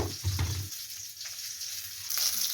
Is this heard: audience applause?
no